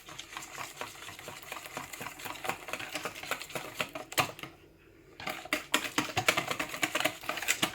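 Donut dough ingredients, including grated lemon zest, salt and vanilla, are stirred in a bowl with a rapid clattering, tapping rhythm up close, pausing briefly about midway before resuming, with no talk.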